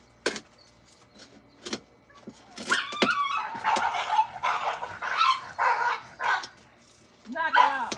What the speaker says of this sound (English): Y'all hear them dogs? They do that all day long.